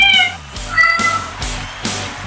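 Bucky, a female cat, gives several close, clear meows in quick succession, with some broadband bursts of background noise between the calls.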